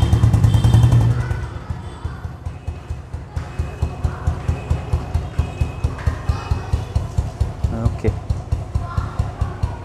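A Royal Enfield Standard 350 single-cylinder engine idles just after an oil change, with a steady, even thumping pulse throughout, loud at first with an extra burst of rumble, then settling into a regular close idle.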